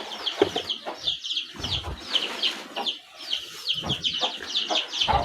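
Quail calling in a rice field, repeated chirping bird calls in quick bursts with rustling and outdoor noise between them.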